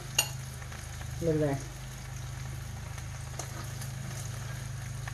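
Pork sizzles steadily in a hot iron skillet with a constant frying hiss, while a voice speaks briefly early on.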